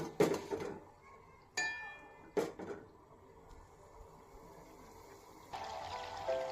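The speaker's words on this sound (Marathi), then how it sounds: "असं हलवून घ्यायचं चमच्याने आपण" A metal spoon stirs boiling tea with homemade lemongrass in a pot, giving a few sharp clinks and scrapes early on, then quieter bubbling and faint kitchen clatter.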